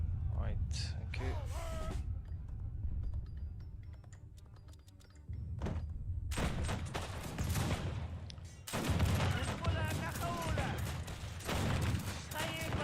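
Gunshots in Age of Empires 3 as units snipe heavy cannons, a battle with Afghan forces: bursts of volleyed fire and impacts, quieter stretches between, then dense overlapping shots, with talking over parts.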